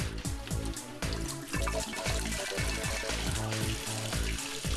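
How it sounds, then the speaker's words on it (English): Water swirling out of an upturned bottle in a vortex, a steady close gurgling and glugging with rapid rhythmic bubbling pulses throughout. "Using the vortex method, the water escaped the jar much faster."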